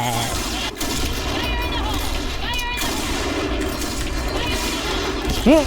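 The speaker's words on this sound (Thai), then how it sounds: "ระเบิด" Grenade blasts and gunfire in the online shooter Point Blank on a Thai server, sounding as steady loud bursts of battle noise throughout, with a sharper rising effect near the end.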